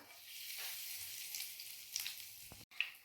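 Curry leaves frying in hot oil in a pan for stuffed squid, a steady hissing sizzle with a few sharp crackles and a clatter near the end.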